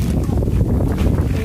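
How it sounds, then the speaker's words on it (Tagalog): Strong wind buffets the microphone in a continuous low, rumbling roar, loud and close, with no clear voices. "Lakas ng hangin."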